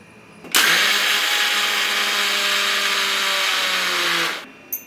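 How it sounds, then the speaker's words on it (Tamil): A mixer grinder grinding soaked rice with a little water whirs loudly and steadily for about four seconds, starting abruptly and winding down, with no talking. "தண்ணி கொஞ்சம் ஊற்றி நல்லா கிரைண்ட் பண்ணி எடுத்துன்னு வந்துக்கலாம்."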